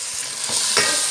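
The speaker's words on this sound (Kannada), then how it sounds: "ಸರಿ ಫ್ರೈ ಮಾಡ್ತಾರೆ" Potatoes and tomato frying in a pan hiss with a steady, loud sizzle, and two quick stirring scrapes cut through close up.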